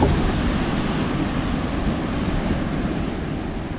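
Waves roll steadily onto Dahican beach in Mati, Davao Oriental, making a loud continuous surf roar mixed with heavy wind buffeting close to the microphone, with no voices.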